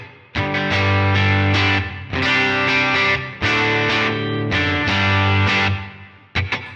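Electric guitar played as rhythm through a Line 6 HX Stomp Double Tank reverb: crunchy distorted chords strummed in long sustained phrases with brief pauses, ending in a short decaying tail and a last quick stab, with no voices.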